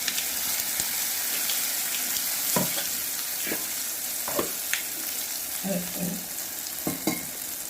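Tempering of curry leaves sizzling in a hot pan while cooking a chutney, a steady frying hiss broken by sharp crackles and pops, close and fairly loud, with occasional stirring clinks.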